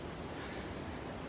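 The Lower Falls in Rochester, New York, give off a steady roar of rushing water heard from a distance, a faint unbroken wash with no voices over it.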